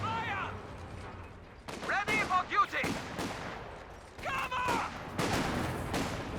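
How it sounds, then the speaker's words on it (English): Flak gunfire in the Company of Heroes 2 strategy game: bursts of rapid firing arrive in clusters over a steady battle bed, partly under a commentator's voice. "Here comes the flak though."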